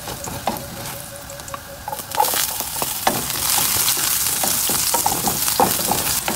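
Pork liver bistek sautéing in a pan, a steady sizzle that swells louder after a couple of seconds, with scattered clinks and scrapes of stirring throughout.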